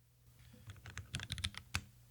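Keys click and clack on a computer keyboard fitted with DynaMat sound dampening under an aluminum bottom, a quiet, uneven burst of muted typing strokes heard close up.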